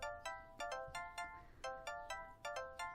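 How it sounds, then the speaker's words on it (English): A mobile phone rings in a pocket, a quiet electronic ringtone with evenly spaced bright tone bursts repeating about every third of a second, alone with no talk. "Vincent's phone begins ringing in his pocket."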